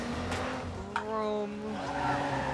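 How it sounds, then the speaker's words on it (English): Fast car in Watch Dogs 2 driving hard, engine revving as tires squeal in rising and falling tones, with a brief squeal burst partway through. "Oh my lord, this car is so fast."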